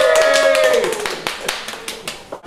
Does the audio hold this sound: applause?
yes